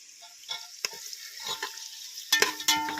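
Green chillies go into onions frying in a pan for a village-style chicken biryani, giving a soft sizzle with scattered scraping stirs and a few louder clatters near the end, close by and with no talking.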